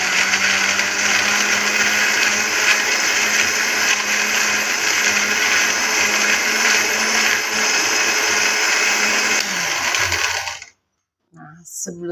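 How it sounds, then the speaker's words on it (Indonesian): An electric blender grinds a spice paste of coriander, pepper and tamarind for grilled chicken and fish marinade, a loud steady whirring drone that runs for about ten seconds, then cuts off abruptly into near silence. "Kita blender sekarang."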